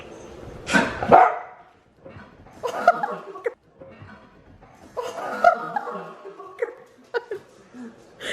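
A dog barks several times in short, loud bursts spread over a few seconds indoors, with laughter and people talking between the barks.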